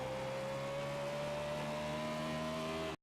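Race car engine held at full throttle at Bristol Motor Speedway in iRacing, a steady sustained high drone that cuts off abruptly near the end, moderately faint, with no talking.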